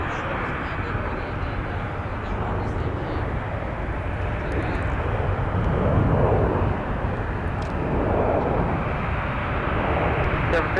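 An airliner takes off from runway 17 at Minneapolis–St. Paul airport, giving a loud, continuous engine roar that swells slightly midway, with voices faintly under it.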